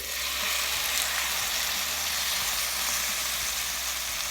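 Diced potatoes frying in olive oil in a pan over medium heat give a steady, close sizzle with dense crackle, unbroken for the whole stretch and heard alone.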